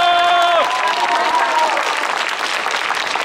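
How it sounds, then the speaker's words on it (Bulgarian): Audience applause for folk dance ensemble couples at a dance event, a dense sustained clapping crowd after a brief tonal voice at the start, loud and steady throughout. "Аплодисменти за тях."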